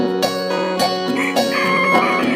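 A loud, close cock-a-doodle-doo, its long strained call stretching over a couple of seconds with a steady tonal quality.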